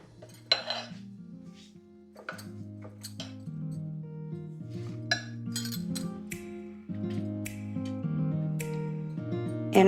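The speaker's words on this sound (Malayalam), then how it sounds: "ഇതെല്ലാം കൂടി മിക്സ് ചെയ്യാം." A spoon mixes black sesame seeds and cumin into unniyappam batter, making repeated sharp clinks and scrapes against the bowl over a steady tonal backdrop.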